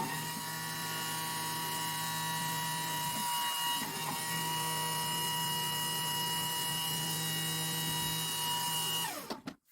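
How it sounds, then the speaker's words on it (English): A pump runs with a steady whining, multi-toned mechanical hum while losing prime, holding an even drone close by for several seconds before cutting off abruptly at the end. "Nothing's coming out because the damn pump keeps losing prime."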